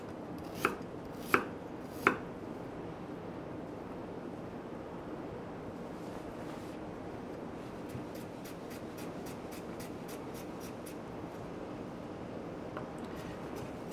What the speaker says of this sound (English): We have the ginger, which I cut very fine.